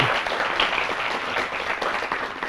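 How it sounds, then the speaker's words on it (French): An audience giving an ovation to colleagues at a youth competition event in Ali Sabieh, continuous dense applause filling the whole moment, steady and fairly loud with no talk over it. "je veux qu'on fasse une ovation"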